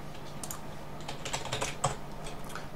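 A password being typed on a computer keyboard, a quick run of soft close key taps with no talk.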